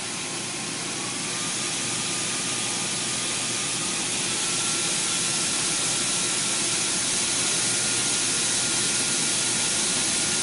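A windstorm test machine blasts 275 mph winds, producing a loud, continuous broadband roar and hiss that builds slightly and then holds steady with no break.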